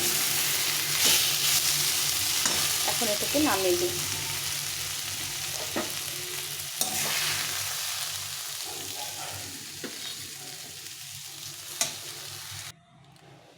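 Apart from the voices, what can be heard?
mustard greens (shaak) frying and stirred in a pan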